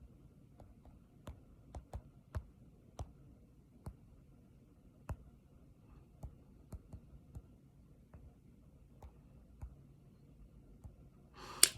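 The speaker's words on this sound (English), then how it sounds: "I'm typing this out because I want you to be able to see it" Soft, scattered taps of typing on a phone screen, irregular and quiet against a faint low hum, with no voices.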